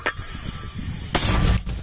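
A heavy, booming blast of a mortar firing in combat in Ukraine, over constant wind-like roar, followed by a second loud surge of noise.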